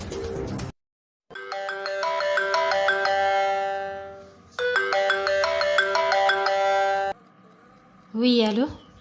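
A telephone ringtone plays a bright melodic pattern twice, loud and close, with a brief gap between rings. A voice answers just after.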